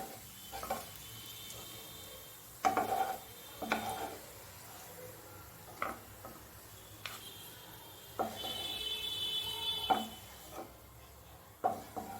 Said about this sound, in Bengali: পেঁয়াজটা আমার ভালো মতন ভাজা হয়ে গেছে, এখন আমি তুলে রেখে দেবো পেঁয়াজটা।